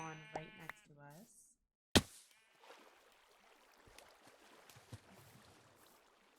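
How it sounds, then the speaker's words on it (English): Sheep in the video game Minecraft give a few close, clear bleats at the start, followed by a sharp click and quiet game ambience with faint knocks. "So it's great that we had some sheep spawn right next to us."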